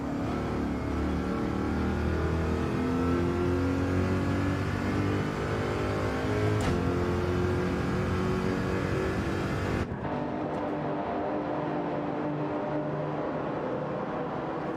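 Corvette race car engine in Gran Turismo 7 at Deep Forest, a sustained loud revving drone with shifting pitch throughout, briefly dipping and changing tone near the ten-second mark.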